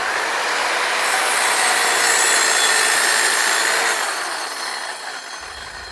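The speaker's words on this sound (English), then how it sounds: "So I've got my hacksaw. Let's cut it open, see what it looks like." A hacksaw cuts open a motorcycle fuel filter from a Kawasaki ZX6R J2 in steady, rasping strokes, close and continuous for several seconds before tapering off.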